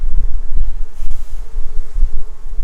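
Bees buzz close and loud around an opened hive, a dense, wavering hum with bumps and thuds as insects strike nearby.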